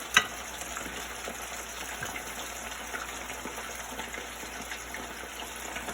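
Pork pieces frying in oil in a wok give a steady, close hiss and sizzle with no break, and one sharp clack of a utensil lands near the start.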